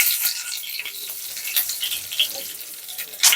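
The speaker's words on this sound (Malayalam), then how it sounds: "അതിനുശേഷം 2-3 കറിവേപ്പില ഇട്ട് കൊടുക്കുക." Curry leaves dropped into hot oil with popping mustard seeds, giving a bright crackling sizzle with small sharp pops scattered across a few seconds, close and fairly loud.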